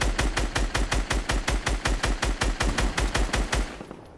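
Rapid automatic gunfire in the military shooter game Squad: a steady, evenly spaced stream of about eighteen loud, close shots over four seconds, with no voices.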